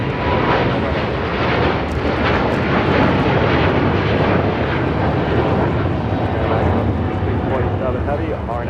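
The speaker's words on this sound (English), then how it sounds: "This is China Eastern Airlines 586 taking off to Shanghai on the 777-300ER." A China Eastern Boeing 777-300ER takes off from runway 25 right at LAX, bound for Shanghai, its jet engines a loud, steady, unbroken roar that fills the whole stretch.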